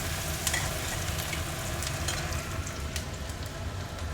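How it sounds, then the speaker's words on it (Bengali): Onions browning in a pan give a steady, dense sizzle, loud and close, unbroken throughout with no talk. "এই যে বন্ধুরা এখানে আমি আবার পেঁয়াজটাকে বাদামি কালার করে নেব।"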